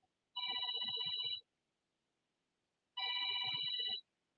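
A telephone rings in two electronic bursts, each about a second long with a trilling warble, separated by a clear pause; the ringing is close and alone, with no talk over it.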